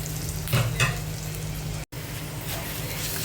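Potato batter for aloor dhoka sizzles and crackles steadily in a hot pan, a close, dense hiss with a couple of louder pops early on and a brief cut partway through.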